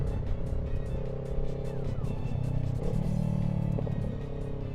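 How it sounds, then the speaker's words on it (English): A motorcycle fitted with an eBay aftermarket exhaust rumbles and revs close by, its engine note shifting as it changes gears, with a few faint crackles that could be pops on downshifts. "Especially the downshifts, it pops a little."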